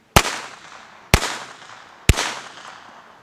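A German WWII infantry rifle fires three sharp single shots, evenly spaced about a second apart, each loud crack ringing out with a short reverberant tail before the next.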